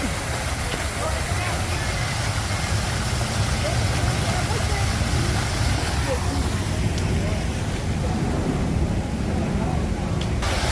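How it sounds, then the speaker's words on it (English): A waterfall on an outdoor school trip in Washington D.C. gives a loud, steady broadband roar that runs unbroken throughout. People are talking near the microphone over it. "So we have a waterfall"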